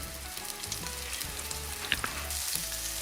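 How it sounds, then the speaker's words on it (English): Skinless chicken drumsticks browning in a hot pan, a steady close sizzle and spatter with a few small pops and stirring sounds. "I just want to brown it on all sides and get it nice and caramelized."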